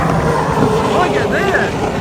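Hydroplane racing boats roar in a close race at the APBA Gold Cup, a loud, steady engine drone with rising and falling whines as the boats pass, under an announcer's commentary.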